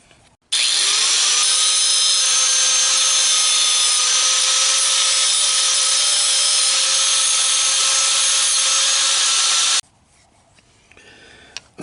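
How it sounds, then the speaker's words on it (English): An angle grinder biting into square steel stock welded onto the gear shift lever of a Tao Tao Rhino 250, one loud continuous high-pitched grind lasting about nine seconds, close up, then stopping abruptly into quiet. "We welded some square stock on, and you watch me grind it until I set myself on fire."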